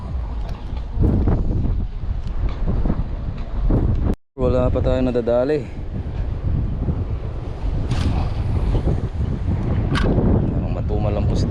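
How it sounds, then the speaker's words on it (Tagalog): Strong wind roars and buffets a small boat at sea during a squid-fishing outing, a steady broadband rumble running throughout beneath someone talking in Filipino. "Lakas ng hangin."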